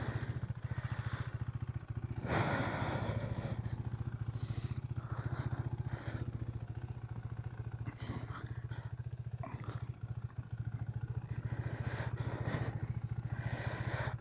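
A 2020 KTM Duke 390 motorcycle on a muddy UK country road holds a steady, throbbing single-cylinder engine drone throughout, with gusts of wind buffeting and rattling over it.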